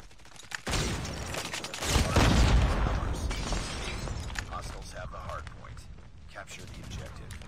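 A grenade goes off in a first-person shooter match: after a short click, a loud, broad blast erupts about two seconds in, then decays into rumbling debris and scattered shots while players talk over it.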